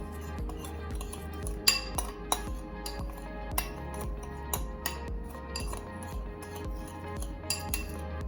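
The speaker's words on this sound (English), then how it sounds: "So I'll combine all these dry seasonings together." A utensil clinks and taps against a bowl while dry seasonings are stirred together, with soft scraping and a string of sharp, irregular metallic ticks at close range.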